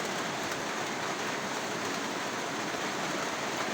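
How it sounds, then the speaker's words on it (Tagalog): Heavy rain falls in a steady, dense, unbroken hiss that stays constant throughout, with no voices over it. "At lalong lumakas na naman yung ulan."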